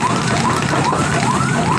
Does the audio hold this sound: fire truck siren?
yes